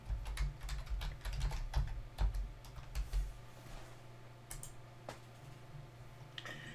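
Login credentials are typed on a computer keyboard, a quick close run of light keystrokes that thins into a few scattered taps and clicks in a quiet room.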